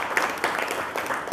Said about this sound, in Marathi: भूषणमुनी महानुभाव यांचंही टाळ्या वाजून आपण स्वागत करू